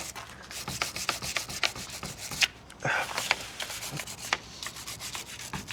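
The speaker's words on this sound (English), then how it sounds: "Let's go ahead, scrape up the battery posts." Metal scraping on car battery posts of a 1991 Honda Accord being cleaned: a steady stream of quick, close, rasping strokes with sharp individual scrapes, no talking.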